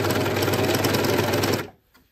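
A coverstitch sewing machine stitches fabric at high speed with a loud, steady rapid whir that stops abruptly near the end, leaving a faint click.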